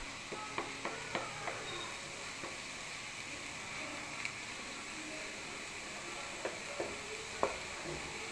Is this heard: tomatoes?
yes